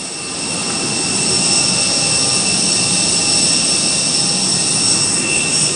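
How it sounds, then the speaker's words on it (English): Airplane jet engine roar at an airport, loud and steady, with a broad rushing noise and a high whine, swelling slightly then holding constant throughout. "as it started with a plane, it ends with a plane."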